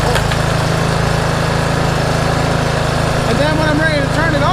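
A Toro Timemaster lawn mower engine runs steadily and loudly with a constant droning hum, while a voice talks over it near the end.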